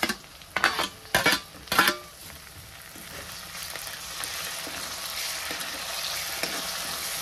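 Onion and tomato frying in a pan for misal pav, a steady close sizzle running throughout, opened by a few sharp clattering stirs or utensil knocks in the first two seconds, with no talk.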